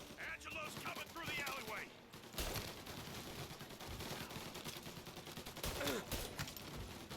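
Rapid bursts of gunfire in the video game Mafia: Definitive Edition crackle and pop in dense, overlapping volleys during an ambush, with a few brief Polish voices beneath the steady shooting.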